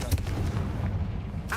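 The Confringo blasting spell in Hogwarts Legacy fires off as a booming, rumbling blast under a voice, with a brief sharp crackle near the end.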